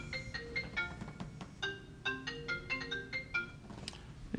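A phone ringtone for an incoming call plays quietly as a repeating melodic pattern of bright electronic tones, heard alone over a few seconds.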